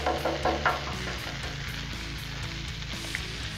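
Butter sizzling and frying on a hot Blackstone flat-top griddle, a steady close crackle with a few sharper pops early on, with no voices.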